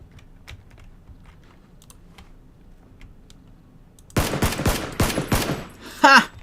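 After a few seconds of quiet, faint keyboard ticking, a rapid burst of loud gunshots erupts in PUBG, followed by a short pause and one more sharp shot.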